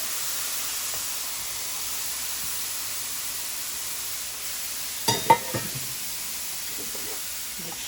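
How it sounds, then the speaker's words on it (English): Mushrooms, carrots, onion and pepper sautéing in a pan for black bean burgers, a faint steady hiss of frying, then a brief cluster of scraping and clattering stirs, with no speech. "So I'm going to saute this"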